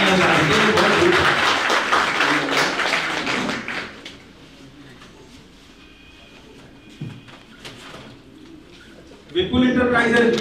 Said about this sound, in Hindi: इनके लिए थोड़ा जोरदार तालियां बजाइए